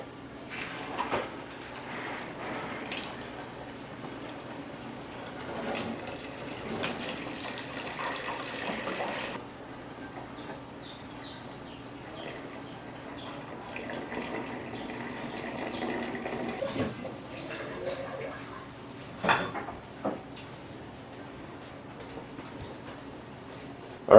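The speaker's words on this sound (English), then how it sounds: "we're going to take our very hot boiling maple syrup, we're going to pour it through here, let it drain into the pot below" Very hot, freshly boiled maple syrup pours through a filter and drains into a pot below, a steady close liquid trickle for about nine seconds before it fades to quieter, scattered drips and small clinks.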